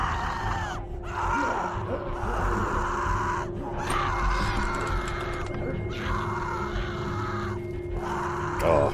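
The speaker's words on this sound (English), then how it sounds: "Oh, those screams are horrible." Pained groans, gasps and strained screams from characters in The Walking Dead video game rise and fall over a steady low ambient hum, sounding close and distressed throughout.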